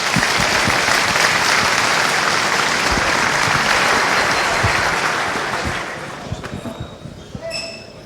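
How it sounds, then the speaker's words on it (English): Audience applause at a FOSDEM 2016 conference talk, a loud, dense wash of clapping from a large crowd that holds steady, then thins and fades toward the end with a few scattered claps and faint clinks. "Please give him a round of applause."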